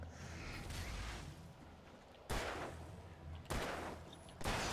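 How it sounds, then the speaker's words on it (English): Gunfire in Alan Wake Remastered: a few sharp, loud shots spaced about a second apart, with a rumbling low background between them. "I'm still shooting things."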